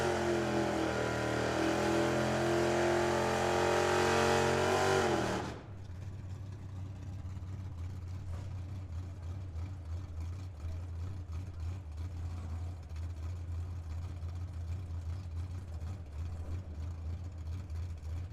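1981 Ford Mustang drag car racing at Firebird Motorsports Park, a loud high engine wail for about five seconds that cuts off abruptly, then a lower distant engine drone continuing steadily.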